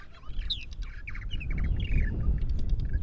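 Many purple martins chirp and warble together in quick, gurgling bursts around nest houses on eastern Long Island, with soft wind and a low background rumble underneath.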